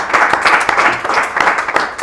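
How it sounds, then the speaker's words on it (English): An audience at an indoor speaker-series talk claps in a brief round of applause, close and fairly loud, with uneven individual claps rising and falling. "A round of applause"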